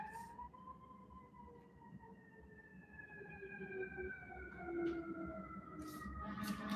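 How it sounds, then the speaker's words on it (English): Fire truck sirens from several trucks, long gliding wails slowly falling in pitch, heard at a distance and fairly faint over low background rumble, with no voice over them. "There are sirens apparently here. I can see them. It's a fire truck,"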